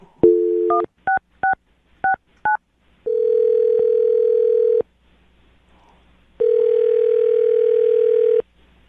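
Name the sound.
telephone dialing and ringing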